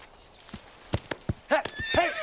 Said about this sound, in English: Give their horses free rein, Feroz.